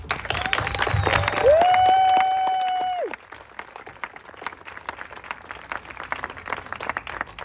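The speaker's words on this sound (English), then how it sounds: "Please express appreciation to our teachers and administrators and families by giving them a round of applause" An audience applauds teachers, administrators and families at a school ceremony: dense, sustained clapping with a brief high whistling tone early on, then fading to scattered claps.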